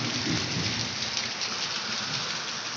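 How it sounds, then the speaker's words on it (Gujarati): Heavy rain pours down in Bhavnagar during a thunderstorm, a dense, steady roar of rainfall close by with a low rumbling undertone and no voices. "વરસાદ અત્યારમાં એટલો બધો ચાલુ છે અને અત્યારે વીજળીના કડાકા ને એવું બધું બહુ થાય છે"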